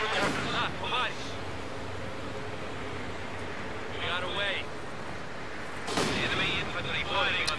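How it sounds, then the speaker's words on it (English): Gunfire and artillery fire in the World War II strategy game Company of Heroes 2, in a winter mission: a steady rumble of distant shelling, broken by sharp bursts of shots near the start, at around four seconds and near the end, with voices talking over it. "Someone's firing at me."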